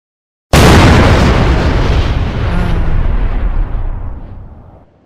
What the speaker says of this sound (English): I'm gonna do an explosion like usual